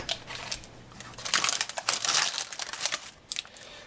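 Parchment paper crinkles and crumples while being pressed into a pan for Burmese tofu, with close, crisp bursts of rustling, quiet and irregular.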